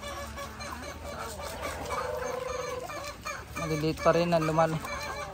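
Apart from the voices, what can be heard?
chickens clucking while being fed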